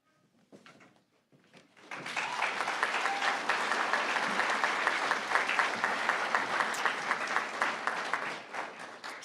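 After a few scattered early claps, an audience at a nursing college graduation ceremony breaks into full, sustained applause that fills the room and carries on steadily to the end.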